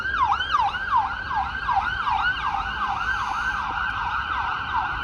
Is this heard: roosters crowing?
no